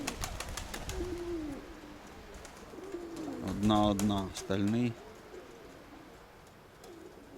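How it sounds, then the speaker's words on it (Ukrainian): A pigeon coos close by, with several low throbbing coos clustered in the middle of the clip, while someone talks quietly before and around them. "А ось і голубок"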